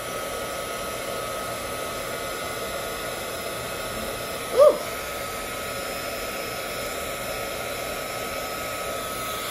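A heat gun blows hot air during nail art work, a steady close whooshing roar that runs throughout with one brief bump midway and no talking.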